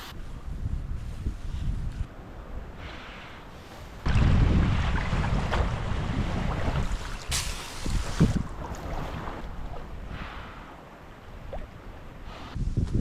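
Wind gusts buffet a pack raft drifting among river ice in Alaska, a rough, fluctuating rush that swells and fades across the whole stretch, with faint knocks and scrapes but no voices.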